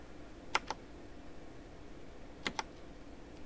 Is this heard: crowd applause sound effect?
no